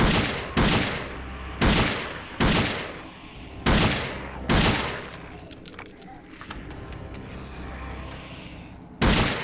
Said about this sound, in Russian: Ребята, я на вас тут сейчас все патроны изведу.